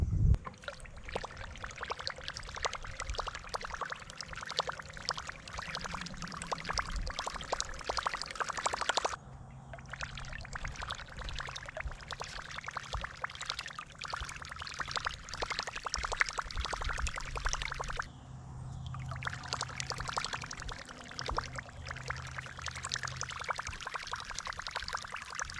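A prop bait runs through the water of a pool, giving a faint, continuous splashing and gurgling churn that drops out briefly twice before resuming.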